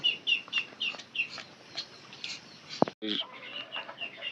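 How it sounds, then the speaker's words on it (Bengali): Farmyard roosters and hens cluck and call in repeated short bursts, fairly faint and at a middle distance. A single sharp knock breaks in near the end. "এই দেখেন আমাদের মোরগ মুরগিগুলো"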